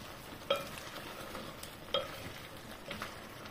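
Calamari frying in a pan gives a steady low sizzle with a few sharp pops, two louder cracks standing out near the start and a softer pop near the end.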